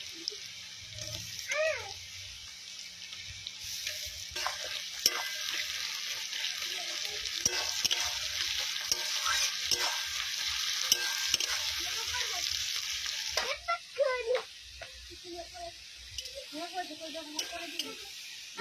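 Cinnamon, cloves, cardamom and tomato going into hot oil in a village kitchen pan, a loud continuous sizzle with scraping stirs and clatters, brief voices and other household sounds in the background.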